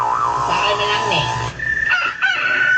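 A rooster crows loudly and close, one long drawn-out call, followed by a quieter second crow with some background noise.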